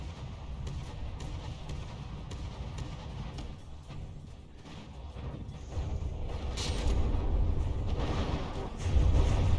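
Continuous rumbling rapid cannon fire, including Sea Whiz guns, and booming explosions from the naval battle game From The Depths, dense and steady, swelling louder toward the end.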